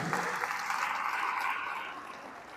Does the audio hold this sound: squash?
no